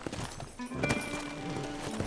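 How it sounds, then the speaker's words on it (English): A horse's hooves clip-clop in a steady rhythm in the game Red Dead Redemption, fairly close, with no one speaking. "You got yourself a nice horse."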